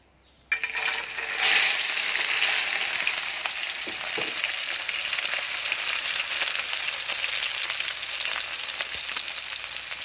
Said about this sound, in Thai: ทอดจนกรอบครับผม แต่ที่กรอบของเราพริกพริก พริกแห้งลุ่งกับกระเทียม